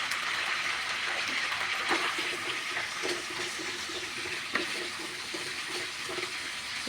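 Ginger and garlic paste is stirred in a hot pan while cooking morog polau, giving a steady sizzling hiss with faint scraping, close and even, with no talking.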